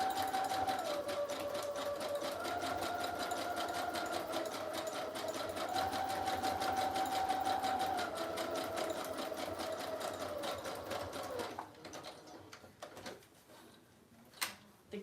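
A sewing machine stitches fairy-theme fabric embellishments in a fast, steady mechanical whir with rapid needle clatter, close and loud. It runs for about eleven seconds, then stops, followed by a few light clicks and handling knocks.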